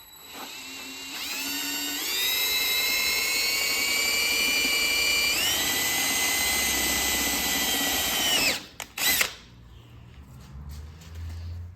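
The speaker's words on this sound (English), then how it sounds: "All right, so we got the first hole drilled." A power drill bores holes for a Pro Moto billet end cap on a 2020 KTM 500 XCF-W/EXC-F, a loud steady whine that rises in pitch mid-run, then cuts off sharply with a couple of brief bursts before settling quiet.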